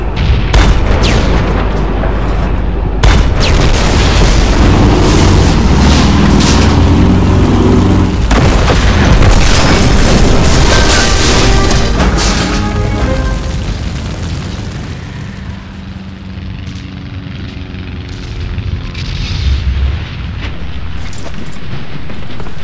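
Grenades go off in the World War II shooter World at War Heroes, heavy booming blasts layered over sustained gunfire and rumble, loud and close, easing into a quieter tail toward the end.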